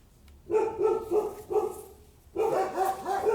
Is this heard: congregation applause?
no